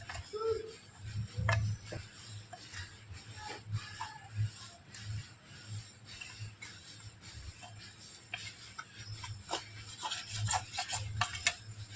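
A metal spatula scrapes dried milk from a pan while homemade milk powder is being made, giving a rasping, scratchy sound. The scrapes come in uneven strokes, close and fairly soft, with occasional clinks.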